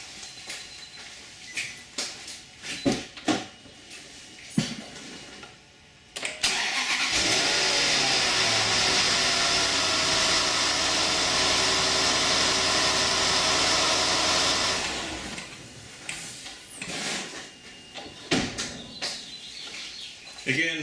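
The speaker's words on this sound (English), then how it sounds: "Let's start the engine again." Land Rover LR4 engine cranked and started using a Micro-Start XP-10 jump booster: brief cranking, then the engine catches and idles steadily for several seconds before settling, with faint clicks and handling noise around it.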